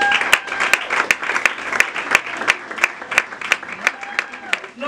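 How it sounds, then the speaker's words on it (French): An audience at a certificate ceremony gives scattered, sparse clapping, with individual hand claps ringing out in an uneven rhythm over a murmur of voices in the room. "Non, mais applaudissez comme il se doit, non?"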